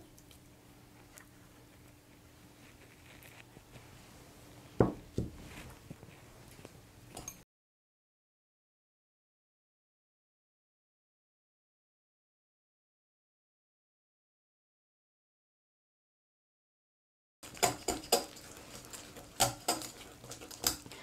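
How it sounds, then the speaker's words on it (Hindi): Butter is beaten in a bowl with a hand whisk, giving faint, quick clinks and scrapes of metal on the bowl. The whisking drops into a long silence before resuming with a few sharper taps. "इसमें मक्खन डालकर इसको हैंड विक्स के साथ अच्छी तरह से बीट कर लेंगे"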